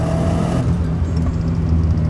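A JDM twin-turbo Subaru Legacy fitted with an aftermarket exhaust pulls under acceleration, its engine droning low and steady from inside the car with a faint turbo whir above, and no one speaking.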